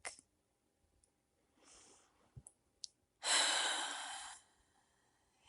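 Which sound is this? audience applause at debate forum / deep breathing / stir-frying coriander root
deep breathing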